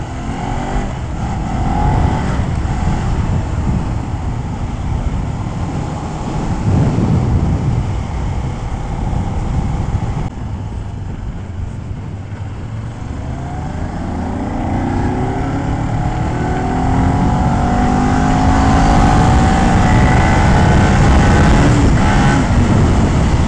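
A Kawasaki Ninja 400 motorcycle revs and accelerates from too low a gear, its engine droning loud and close with rising and falling pitch through several pulls, wind rush mixed in.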